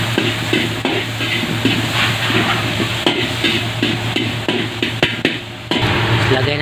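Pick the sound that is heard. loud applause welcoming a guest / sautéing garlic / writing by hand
sautéing garlic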